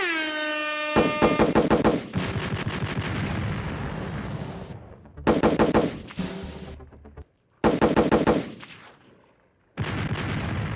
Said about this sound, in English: that part, gunshots and bombs